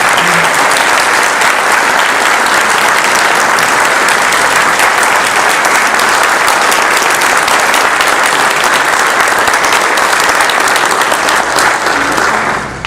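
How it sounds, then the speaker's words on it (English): An audience claps loudly and steadily for several seconds, a dense wash of applause that fades slightly at the very end. "a big round of applause"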